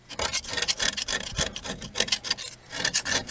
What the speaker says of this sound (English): now I have a real easy time getting to the hole to scrape it. And I'm just using a knife.